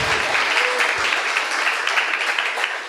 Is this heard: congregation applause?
yes